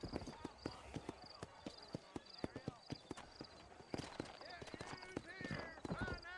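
Horse hooves clip-clop in a steady trotting rhythm in the video game Red Dead Redemption, close and fairly faint, mixed with game sounds and a brief whinny near the end.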